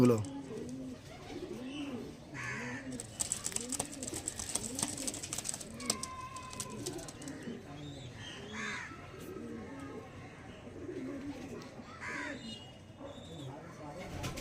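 Black Diamond domestic pigeons, one of a lot of ten, coo and call repeatedly through the whole stretch, with soft throaty murmurs layered over one another close by and a voice talking faintly at times.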